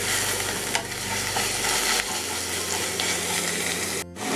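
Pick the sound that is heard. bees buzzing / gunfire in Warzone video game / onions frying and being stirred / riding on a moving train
onions frying and being stirred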